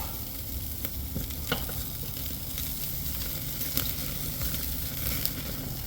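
Tomahawk steaks sear over direct heat on a Weber kettle grill, producing a constant dense sizzle with scattered crackles and pops, heard close and alone.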